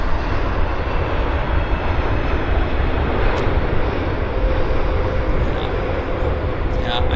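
Heavy jet airliner at Vancouver International Airport, a loud broad continuous engine roar filling the whole stretch, steady and close, with no distinct talk over it.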